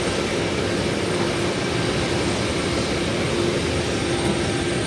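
Jet airliner engines in flight heard from inside a new passenger plane cabin: a loud, steady broadband roar with a faint hum running through it, continuous and unbroken, with no talk.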